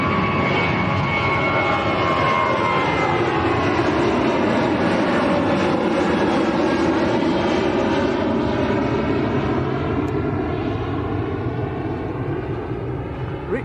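A passenger jet departing Lanzarote Arrecife airport bound for Brussels, its engines roaring loudly and steadily throughout with a broad sweeping whine, no voices present.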